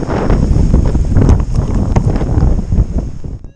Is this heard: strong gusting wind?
yes